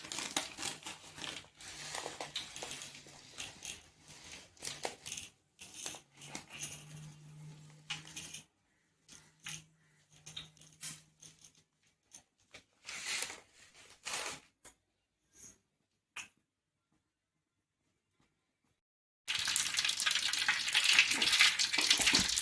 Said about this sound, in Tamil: இப்போ கத்திரிக்காய் வறுத்த எண்ணெயிலே கடுகு நல்லா பொரிஞ்சு வரட்டும்.